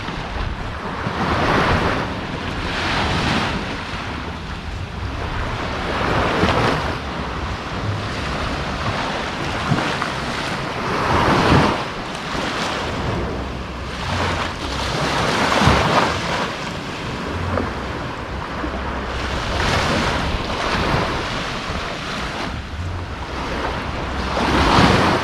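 Ocean waves wash and surge at Treasure Beach in St. Elizabeth, Jamaica, with strong wind buffeting the microphone, a continuous loud roar rising and falling with each breaking swell.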